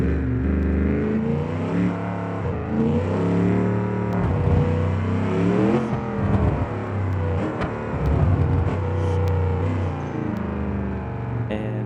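A 6x6 truck in the BeamNG driving game engine-brakes down a hill, its engine droning loudly and steadily with shifting harmonic pitch, heard alone without talk.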